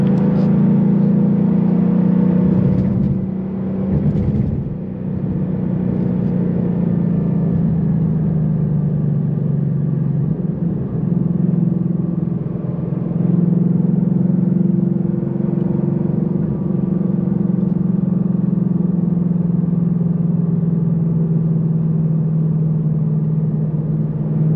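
A 2021 Ford Mustang GT drives onto a freeway, its engine giving a steady, loud mid-range rumble with a brief surge of acceleration early on, then a sustained whirring drone as it keeps pulling.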